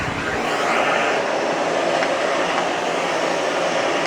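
A Miele S8 FreshAir canister vacuum cleaner runs at a steady, loud whooshing roar with constant airflow noise. Its level holds even from start to finish and no one speaks.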